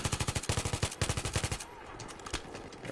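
Rapid automatic gunfire in Battlefield 3, loud close bursts of evenly spaced shots followed by more distant, scattered firing, with no talk.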